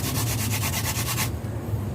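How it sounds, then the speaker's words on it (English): A wooden hand drill spindle spun between the palms against a fireboard for a friction fire, giving a steady, close rubbing and grinding that carries on continuously, with the bright scratchy part dropping away in the final stretch. "Continue rolling the spindle between the palms of your hands until you see a glowing ember."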